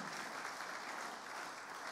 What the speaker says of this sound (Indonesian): Yang setuju, tepuk tangan dulu yang meriah buat Tuhan.